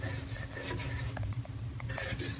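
A towel rubs around a foggy, stained Vitamix blender container in a continuous close rasping scrub, with short squeaky accents partway through.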